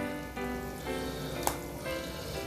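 Egg curry boils in a pot, bubbling and sizzling steadily at close range, with a brief splash as a single egg drops in.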